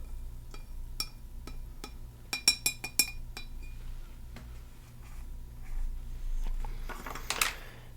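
A paintbrush taps and clinks against a glass water jar during a rinse, giving a run of bright, quiet chinks in two clusters, followed by a soft swishing of water.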